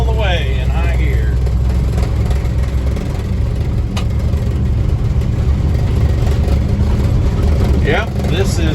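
An International Harvester S1900 log truck hauling a load of logs drives in high gear, a loud continuous engine drone and road rumble throughout, with someone talking briefly over it.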